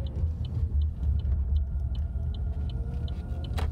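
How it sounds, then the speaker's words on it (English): A Chevrolet Bolt electric car drives on the road, its low tire and road rumble steady and close, with a faint regular chime ticking over it. "It's an absolute delight to drive. This wonderful, wonderful little car."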